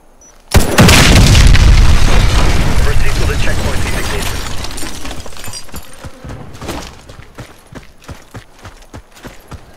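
A C4 charge detonates in the online shooter Warface with a sudden loud, deep boom whose rumble and scattered debris clatter trail off over several seconds, followed by faint sharp crackles.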